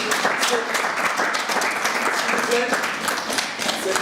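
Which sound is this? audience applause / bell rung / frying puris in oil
audience applause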